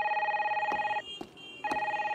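A car phone rings with a steady electronic trill, two bursts broken by a short pause and clicks. The ringing sounds moderately quiet and slightly distant, with no talk.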